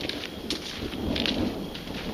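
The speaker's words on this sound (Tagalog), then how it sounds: "Thunder na gina." Thunder rumbles during rain on a forest trail in the Kettle Moraine South Unit of the Ice Age Trail, a low, diffuse roll under a steady hiss of rainfall, with no voices.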